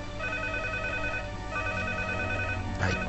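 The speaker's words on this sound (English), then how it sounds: "I guess that's a phone." A telephone rings in the video game Hybrid Heaven, two steady electronic ring bursts with a short pause between them and a dull thump near the end, with no talking.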